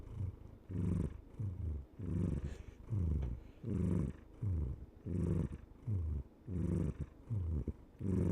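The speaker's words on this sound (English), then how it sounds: "Listen to him purring away" A cat purrs close up in a steady rhythm of rumbling pulses, each breath cycle about a second long, with no talking.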